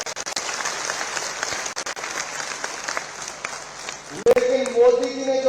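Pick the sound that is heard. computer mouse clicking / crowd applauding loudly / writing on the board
crowd applauding loudly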